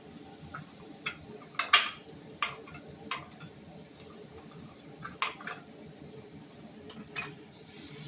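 Butter heats in a pan with salted scallops, giving a faint, low crackle broken by scattered sharp little pops and ticks.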